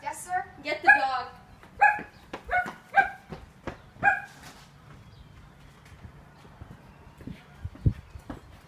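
A dog barks several times in quick bursts, close by, then falls quiet while faint voices continue in a calm room.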